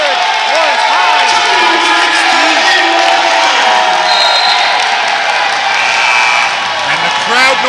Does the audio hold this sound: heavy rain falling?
no